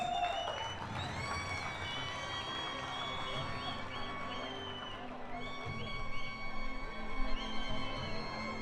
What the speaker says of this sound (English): Big round of applause to Ratnam Justin, the head coach of Northern